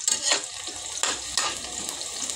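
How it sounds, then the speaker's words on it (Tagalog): Garlic and onion sautéing in hot oil, a bright steady sizzle with a few sharp stirring scrapes, close by and without talk. "Igisa na natin yung bawang sibuyas"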